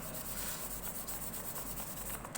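Edges of an electric baritone ukulele body being sanded by hand, a close, steady rasping rub with a quick back-and-forth rhythm and no voices.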